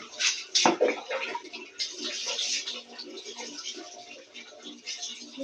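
Water splashing and running while a pet named Golpan is bathed, a faint uneven wash with clatters and a voice talking over it.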